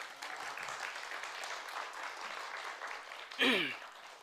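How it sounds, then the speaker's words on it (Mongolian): A church congregation in a Mongolian gathering applauds to welcome newcomers, a faint, steady patter of clapping that continues for several seconds before a brief voice cuts in. "бүгдээ хамтдаа шинээр ирсэн хүмүүсээ нэг халуун алга ташлалтаар ухтаж авъя"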